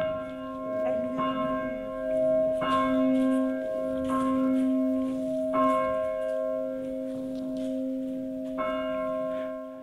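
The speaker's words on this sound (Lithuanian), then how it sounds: "Tai varpai, didysis ir mažasis." Church bells, a large one and a small one, ringing with long sustained tones and repeated fresh strikes every couple of seconds, resonant and moderately near, with no talking.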